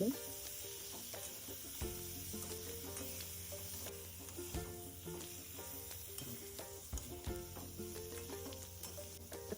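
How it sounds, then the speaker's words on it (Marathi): Moringa drumstick pods fry in masala in a pan with a faint, continuous sizzle and occasional stirring scrapes, low in level and close by. "यामध्ये आता मी शेंगा लावून घेतो व्यवस्थित आपण फ्राय करून"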